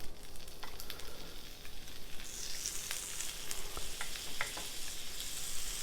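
Asparagus sizzling on a lightly oiled grill set at 400 degrees, a dense, continuous close hiss with scattered pops and crackles throughout, steady in loudness and with no voices.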